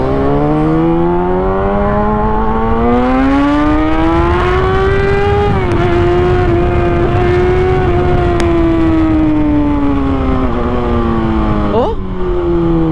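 A Kawasaki ZX6R sport motorcycle engine revs loudly and close, its high whine climbing and holding, then dipping and rising again, with brief shifts in pitch near the end.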